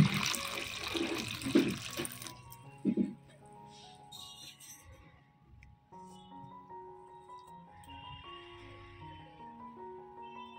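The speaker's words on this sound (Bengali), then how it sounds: "প্রথমে এই টমেটোকে ভালো করে ধুয়ে নেব।" Tap water runs briefly over tomatoes in a sink, a short splashing rush at the start, then gives way to soft tonal music.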